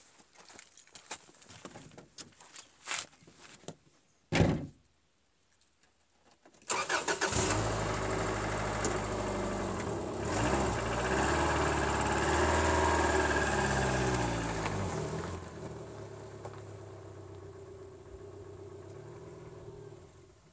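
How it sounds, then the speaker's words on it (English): A car engine, parked during a Toyota MR2 fuel tank job, cranks briefly and catches, then settles into a steady close idle with a slight rise in revs before easing back, after a few faint knocks and clicks. "there's a car directly behind the camera, and I'm having him move it"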